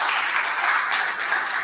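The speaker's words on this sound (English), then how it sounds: "One round of applause for our president." Dense, steady applause from a crowd, loud and continuous throughout the short moment.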